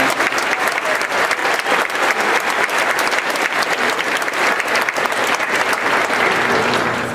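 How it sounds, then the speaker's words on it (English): A large crowd at a high school graduation ceremony applauds, with sustained, dense clapping and cheering that stays loud and even for several seconds. "Let's have one more big round of applause for that."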